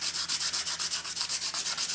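Sandpaper rubs back and forth across a painted surface to expose a wood-grain effect, a loud, close scratchy rasp in a quick regular rhythm of about eight strokes.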